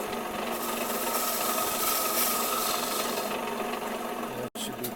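Woodturning gouge cutting a wooden bowl on a lathe, a steady continuous rasping scrape with a brief break near the end, close and fairly loud.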